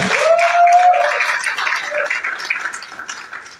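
A press-conference audience applauds in Pointe-Noire, a close, lively burst of clapping that fades gradually over several seconds, with a whistle-like cheer near the start.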